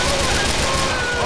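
Heavy, continuous gunfire in the video game GTA 4: The Ballad of Gay Tony, rapid overlapping shots forming a loud, dense barrage with no pauses.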